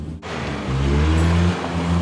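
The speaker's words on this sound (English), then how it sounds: "A lot of engine noise, not much speed so far." A 2011 Mitsubishi Outlander Sport's engine at full throttle, its loud, steady drone swelling as the car accelerates, with no talking.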